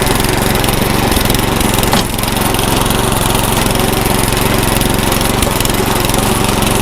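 A Cub Cadet garden tiller engine running loud and close outdoors, a continuous rough mechanical drone with a steady pulsing beat that holds without a break throughout.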